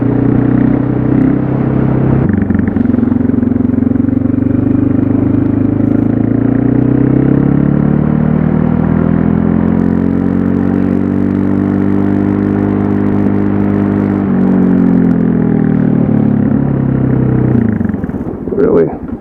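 A motorcycle engine revving steadily while being ridden, loud and close, its pitch rising and then falling as the revs climb and ease off, sustained throughout.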